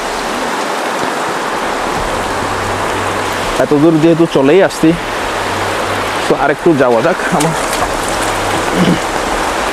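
Heavy rain pours down, with streams and small waterfalls running nearby, making a continuous loud rushing hiss. A voice talks briefly over it in the middle.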